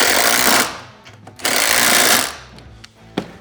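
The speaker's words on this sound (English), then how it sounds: "thoroughly tighten these with your impact" An impact wrench tightening the mount bolts on an Epic FX utility basket, heard as two loud, sustained rattling bursts of roughly a second each, followed by a few short sharp hits.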